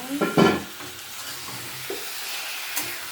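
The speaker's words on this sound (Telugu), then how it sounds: "చూసారు కదా మా అక్క అయితే కలుపుతుంది" Chicken curry is stirred in a pan, opening with a few close scraping stirs and then settling into a soft, steady sizzle with an occasional clink, all without any voice.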